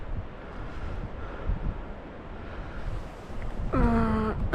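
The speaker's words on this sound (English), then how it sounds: "I think you can hear it's getting a little bit windy around the backside" Wind gusting across the back side of Glenridding Dodd, a fell in the English Lake District, heard during wild camping as a steady broadband rush that swells and buffets the microphone, with a brief tonal whine near the end.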